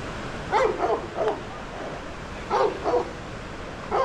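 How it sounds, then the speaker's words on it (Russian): A pack of dogs on a stormy seafront promenade in Sudak, Crimea, barks in short clustered bursts, a few yaps at a time with pauses between, heard from a moderate distance with no talk. "Стая собак тут."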